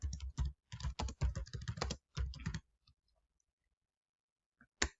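Computer keyboard typing in close-up: quick bursts of crisp key taps about two and a half seconds long, then near silence with a few stray clicks and one last sharp keystroke.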